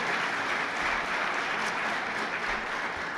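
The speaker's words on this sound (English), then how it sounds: "So everyone, please give a round of applause for them." Audience applause for panelists after a scholarship panel discussion, a full, even wash of clapping from a seated crowd that holds steady throughout.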